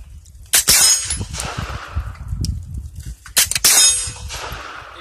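Suppressed 9mm pistol shots ring out at a Tennessee silencer range, two sharp cracks with metallic clanging tails about three seconds apart, loud and close, with no one talking over them.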